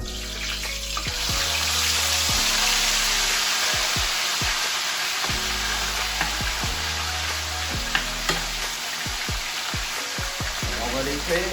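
Lardons sizzle in very hot oil in a saucepan, a steady loud hiss of frying that fills the whole stretch, with occasional low knocks and clatter of the pan.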